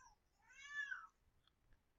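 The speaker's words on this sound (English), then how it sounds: "Sorry, that's my cat in the background." A house cat meows once in the background, a drawn-out rising and falling call lasting under a second, fairly faint and distant, with a couple of soft noises after it.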